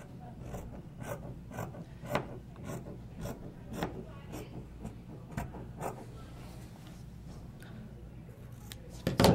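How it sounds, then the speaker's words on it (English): Scissors cutting swimsuit lining fabric, trimming a quarter inch along a bikini top piece: a steady run of soft, dry snips and rasps repeating about every half second, close and quiet, with a louder rustle at the end. "just trim off that quarter inch of the lining"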